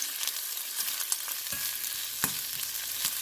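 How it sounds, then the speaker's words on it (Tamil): Onions fry in a pan while being stirred, a continuous close sizzle with a few sharper scraping accents and no voices. "வெங்காயத்தை நல்லா பொன்னுரமாக எடுப்போம்"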